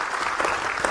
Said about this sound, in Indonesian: Kita sambut dengan tepuk tangan meriah teman-teman